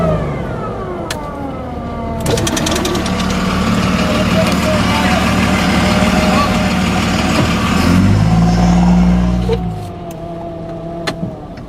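A big truck engine rumbles through heavy rain on a flooded street, loud and close as it passes, with water splashing and brief voices nearby.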